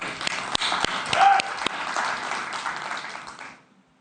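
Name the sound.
applause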